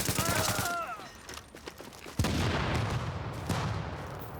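Explosions and gunfire in a video game battle, with booms and bursts of shots at varying distances, some loud and sudden, over a busy background of game sound.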